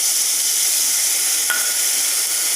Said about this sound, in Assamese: এইখিনি অলপ সময় মই এনেদৰে ভাজি পেলাওঁ।